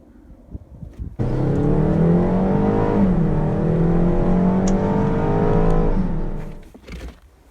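A 2018 BMW 330i xDrive's turbocharged inline four-cylinder engine revs up and accelerates hard, its growl rising steadily for several seconds before cutting off.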